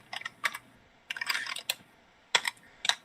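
Bursts of clicky keystrokes on a computer keyboard, several quick clusters separated by short pauses, close and fairly quiet with no voice.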